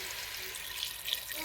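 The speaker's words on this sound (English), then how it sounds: "I'm going to then pour some boiling water, about, I'd say, a cup and a half." Boiling water is poured into a pot of chicken stew with dumplings, making a steady, close splashing stream for about a second and a half.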